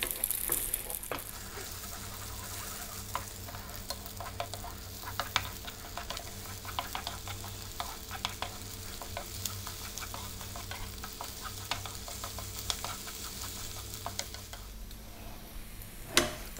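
Singapore noodles stir-fried in a pan, with a steady low sizzle broken by frequent scraping and tapping of a utensil against the metal, close and fairly quiet, with no talking.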